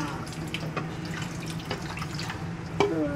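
Tap water runs into a sink as children wash dishes at home, a steady splashing flow with some clinks and a short squeak near the end, with faint voices nearby.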